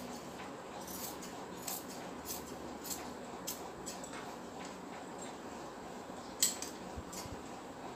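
Scissors snip through bra fabric in a series of faint, crisp cuts at a steady rhythm, with a slightly sharper snip near the end over a quiet room background.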